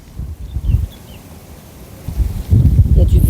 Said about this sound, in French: Il y a du vent, je me mets dans l'autre sens.